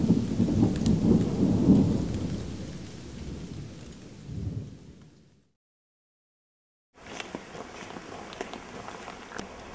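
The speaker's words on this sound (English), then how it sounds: "There's a thunderstorm coming in." Thunderstorm with rain near Lost Creek Wilderness: a heavy low rumble of thunder over steady rain for several seconds, fading to silence, then resuming as quieter patter of rain with scattered drops.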